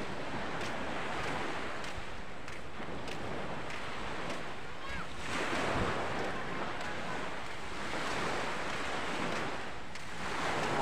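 Ocean surf washes onto the shore in steady broad rushes, mixed with wind buffeting the microphone, fairly faint and continuous with no clear talk.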